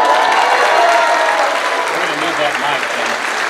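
A sold-out opening day crowd at a Wildcats baseball game applauds steadily, a dense wash of clapping and cheering that holds loud throughout with voices mixed into the roar.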